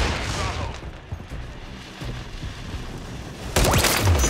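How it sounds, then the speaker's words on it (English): A flash grenade goes off in Call of Duty: Modern Warfare III multiplayer, a sudden loud burst near the end following a stretch of dense gunfire and game noise, with the bang's bright ringing wash holding to the close. "Throwing flash grenade!"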